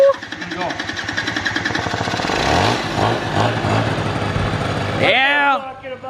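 A small Suzuki children's quad ATV engine runs close by with a rapid, buzzing putter that rises and falls as it revs, while people talk over it near the end.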